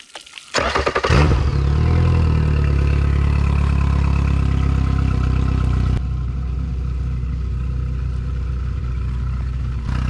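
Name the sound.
Yamaha 70hp 4-stroke outboard motor running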